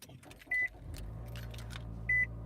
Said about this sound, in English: And we're gonna start up the car.